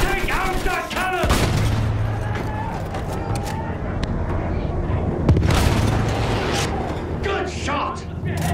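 Booming cannon fire and explosions from a war video game battle on an open field with a field gun, dense and continuous throughout, with players talking over the din.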